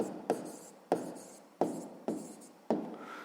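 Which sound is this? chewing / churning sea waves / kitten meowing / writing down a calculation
writing down a calculation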